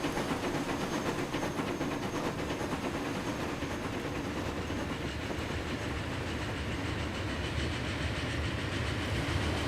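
Trains in the Transport Fever 2 railway game run with a steady, dense mechanical hiss and rolling rumble, loud and continuous, with no talk.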